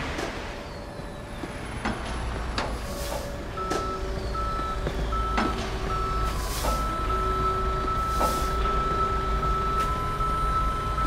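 Repeated electronic reversing beeps from a tow truck in the Police Simulator patrol video game, a steady series of tones over a constant engine rumble, with no talking.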